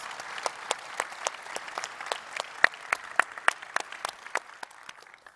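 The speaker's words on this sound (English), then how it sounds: "Let's applause for our guests, our players." A small audience at a tech talk gives light, scattered applause for guests and players, with individual claps standing out sharply against a quiet room.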